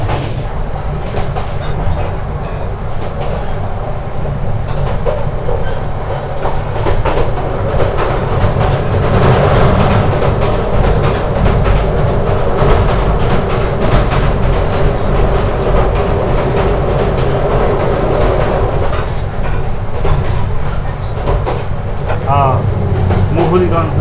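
The Suborno Express, a non-stop Bangladeshi passenger train, rolls along the rails with a loud, continuous rumble and rhythmic clickety-clack heard from inside the coach, carrying on steadily throughout.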